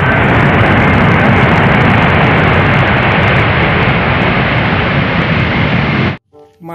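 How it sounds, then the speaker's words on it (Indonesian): A toy airplane gives a loud, steady roaring engine sound for about six seconds, then cuts off abruptly. A faint voice follows in the last moment. "Wow, lihat. Ada pesawat terbang."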